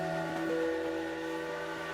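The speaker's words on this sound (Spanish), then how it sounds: "Hoy la centenaria locomotora Aurrera silba acorralada entre Azpeitia y Cestona" The century-old Aurrera steam locomotive on the Urola railway between Azpeitia and Cestona sounds its whistle, a sustained, multi-tone steady blast held throughout at moderate loudness with no talk over it.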